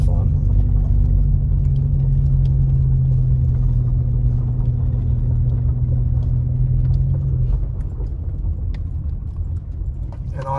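A vehicle jolts along a rough off-road trail in Holcomb Valley, giving a steady loud rumble with a constant low engine drone that drops away near the end, leaving a broader rattling roar.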